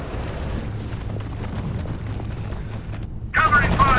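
Covering gunfire in the strategy game R.U.S.E., near the road to Eindhoven: a steady wash of rattling battle noise with scattered sharp cracks, then a voice speaks over it near the end.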